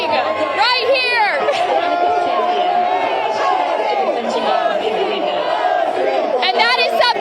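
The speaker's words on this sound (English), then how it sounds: "The cheering for Bussy just over and over" A dense, loud arena crowd at a Carolina Hurricanes Stanley Cup game cheers and chatters continuously, with rising bursts of shouting near the start and end and no clear single voice.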